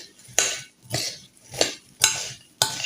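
A tablespoon scrapes and taps against a bowl while scooping melted chocolate mixture into paper cases for sand roses, five evenly spaced clinks about half a second apart, close and crisp.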